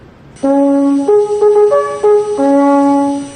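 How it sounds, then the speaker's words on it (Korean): A bright French horn plays a short sequence of sustained notes through its flared tube, stepping between pitches, clear and close with rich overtones. "금관악기 특유의 소리입니다."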